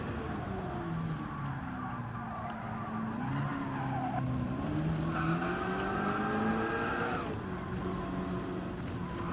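A race car in Gran Turismo 7 brakes hard into a corner during a time trial, with steady engine drone and drawn-out tire squeal and skidding that shifts in pitch, loud and continuous.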